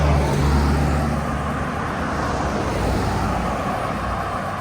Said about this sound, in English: One car sounds like about to explode.